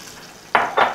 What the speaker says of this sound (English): All right, the butter's pretty much melted. In goes the 1 1/2 cups of Frank's hot sauce.